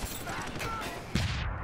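Gunfire in Deus Ex: Human Revolution, a quick burst of shots with a heavier blast near the end over game ambience.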